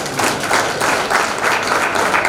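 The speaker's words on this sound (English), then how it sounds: "Round of applause." An audience at a college education conclave bursts into applause, a dense, steady clapping that stays loud and continuous throughout, with no voices over it.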